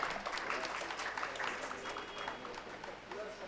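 Steady applause from an audience at an inauguration ceremony for a charitable dialysis centre, a continuous patter of clapping through the whole stretch with voices faintly beneath.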